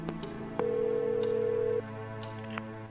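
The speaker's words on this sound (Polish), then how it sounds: "Teraz dzwonimy do Barbary." Telephone dialing tones from the horror adventure game Scratches: a steady electronic tone holds for about a second, with short beeps and clicks before and after it over a low background hum.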